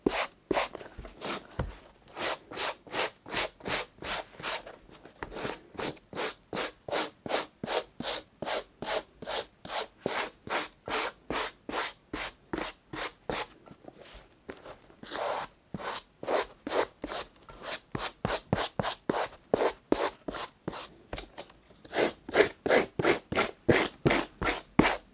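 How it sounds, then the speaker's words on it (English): A rubber and brass brush scrubs steadily across suede, a fast, even series of rasping back-and-forth strokes that runs on alone and close up, with brief pauses before the rhythm resumes. "I use a rubber and brass brush to restore the shaggy look."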